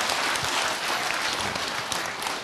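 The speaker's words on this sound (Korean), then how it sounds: "어쨌거나 간에 박수다." Dense, steady applause from a crowd at a Buddhist monk's live question-and-answer talk show, loud and continuous with no voices on top.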